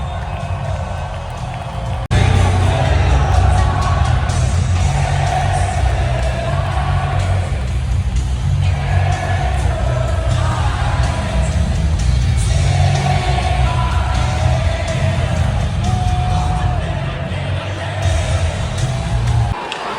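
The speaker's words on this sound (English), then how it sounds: "Listen to this crowd!" A large crowd at a Washington Capitals playoff hockey game in Washington DC roars continuously in the arena, a dense wall of cheering and shouting that swells and holds throughout.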